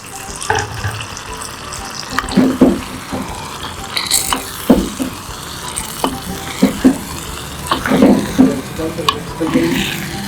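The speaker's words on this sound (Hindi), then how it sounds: "और इसके अंदर हम चिकन ऐड करेंगे।" Chicken pieces go into a biryani pot over softened tomato and sizzle as they are stirred, with repeated scraping and clanking stirs and a steady wet frying hiss close by.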